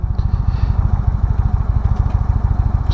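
A parked 2016 Indian Springfield motorcycle idles close by, its engine loud and steady with an even, rapid thumping pulse and no talk over it.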